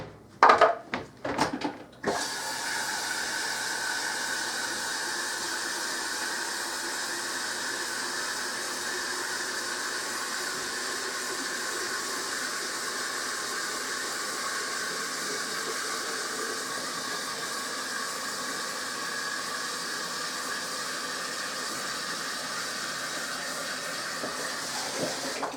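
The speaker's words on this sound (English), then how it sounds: "now I'm going to fill that with water" Water pours steadily into a crock pot for apple cider, a constant hissing splash running alone for most of the time after a few brief clunks at the start.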